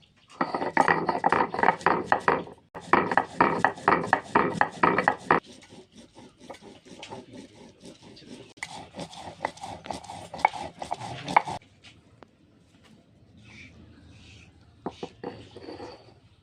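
Ginger and cumin are ground with water into a paste for a Bengali fish curry, with rhythmic rubbing and rasping bursts of stone grinding that come close and loud early on, then softer and more sporadic.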